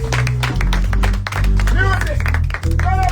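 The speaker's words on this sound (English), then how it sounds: "Give yourself a round of applause." Workshop participants clap together in a dense burst of applause, loud and close, with music and a voice running underneath.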